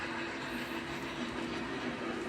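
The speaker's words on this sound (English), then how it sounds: "The wide curves allowed me to run some of my big steam locomotives" Big model steam locomotives such as a Norfolk and Western Class A run on wide curves of a home layout, giving a steady close rumble with a faint clickety-clack of wheels over the track.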